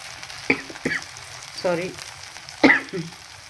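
Millet uttapam batter sizzles softly on a hot pan, a low hiss broken by a few sharp clinks and short bursts of activity close by.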